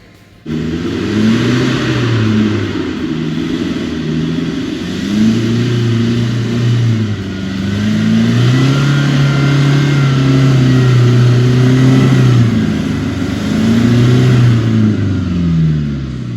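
A 4WD car's engine revs hard and close while climbing a rough, steep track in Bunyip State Forest, loud and sustained with the pitch rising and falling through repeated surges and no talk.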